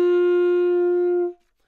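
A single sustained saxophone note, D, fingered with the octave key, held steady and loud for over a second before cutting off cleanly, played alone.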